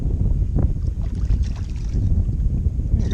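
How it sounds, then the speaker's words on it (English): Strong wind gusting over a weedy river in Maine during bass fishing from a boat. It makes a steady, loud rumble and buffets the microphone, with faint water and boat sounds beneath. "The wind has picked up considerably."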